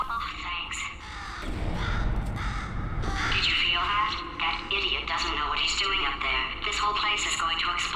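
A bird in the video game Portal 2 gives harsh, crow-like caws close by, mixed with a synthesized character voice speaking over game ambience.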